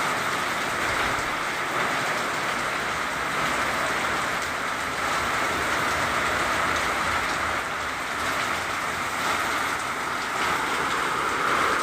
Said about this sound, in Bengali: দেখুন, মন্থার প্রভাবে মুষলধারে বৃষ্টি হচ্ছে এখন দীঘায়